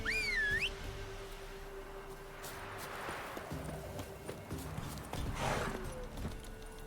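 Roach, the horse in The Witcher 3: Wild Hunt, clip-clopping along at a run with steady hoofbeats, moderately close, joined by a brief whistle-like tone at the start.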